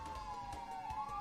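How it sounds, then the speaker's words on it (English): A siren passes outside, its steady wavering wail sounding faint and distant beneath a low rumbling background, with no talk. "Sorry for the siren."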